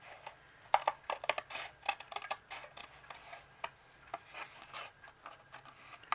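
Scissors snip through paper for a DIY Easter bunny craft, giving a quick, irregular run of soft close clicks and cuts.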